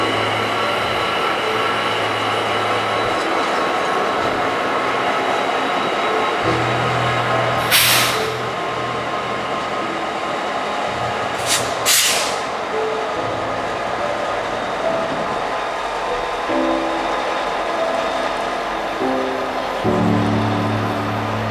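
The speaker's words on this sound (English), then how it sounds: "another CSX train appeared" A CSX freight train rumbles past steadily for a long stretch, with wheels rolling and clanking, a couple of sharp hissing air-brake bursts midway, and a low engine drone throughout.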